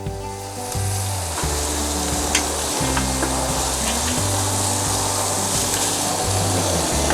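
BBQ chicken breasts sizzle loudly in hot oil in a pan while they are flipped, giving a continuous dense frying hiss with occasional scraping turns.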